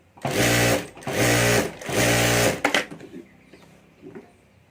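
A sewing machine stitches a fabric strip onto a handmade hand bag in three loud, steady bursts of running motor, followed by quieter clicks and handling noises.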